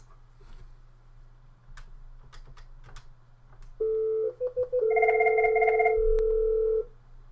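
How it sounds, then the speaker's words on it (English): A VoIP phone call is placed, with faint clicks and taps followed by a loud electronic ringback tone and dialing beeps that sound in steady bursts, then stop. "And now what we shall do is we'll make a phone call."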